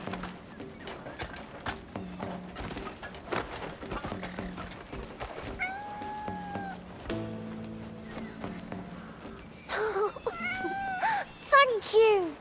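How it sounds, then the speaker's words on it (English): A cat meowing in the video game Crimson Desert, a few drawn-out meows rising and falling over clip-clopping hooves and game sounds, with voices speaking at times. "Yeah, we can go get the cat."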